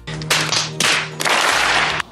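Sharp, loud hand claps made close to the microphone to sync sound with picture during a documentary shoot about a BMW E46 M3, several crisp bursts spaced unevenly.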